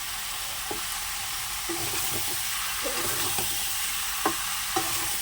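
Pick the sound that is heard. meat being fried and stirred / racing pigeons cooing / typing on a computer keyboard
meat being fried and stirred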